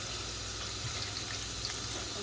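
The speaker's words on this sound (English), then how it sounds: "I'm also going to run this water" Tap water running steadily into a kitchen sink, a close continuous rushing stream with a voice talking faintly under it.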